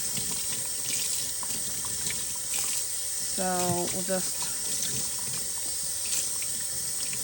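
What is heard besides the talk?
cold tap water rinsing excess dye from a warp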